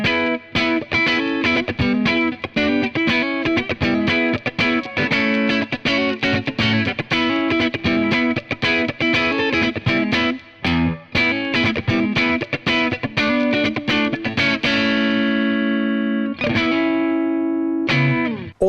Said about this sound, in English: if I take this the other way and I push those mids, we're going to get a much warmer, rounded British style clean tone.